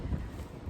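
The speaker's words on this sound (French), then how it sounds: "Ça me tentait pas que vous entendiez juste du bruit de vent." Gusts of wind buffet a microphone outdoors in a backyard, giving a low, rumbling, uneven roar that stays loud and close for the whole moment, with no voices over it.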